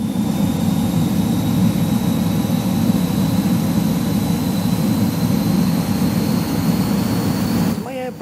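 The jet engine of a BAE Hawk T1 in the video game Microsoft Flight Simulator gives a loud, steady low roar with a thin high whine, holding constant before easing slightly at the very end.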